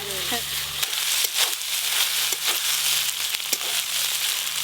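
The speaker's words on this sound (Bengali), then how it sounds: "আদা রসুন আর পেঁয়াজ একসঙ্গে ভাজা ভাজা হয়ে গেছে" Ginger, garlic and onion frying together in a pan, a bright, close sizzle with intermittent crackles and stirring scrapes, steady throughout.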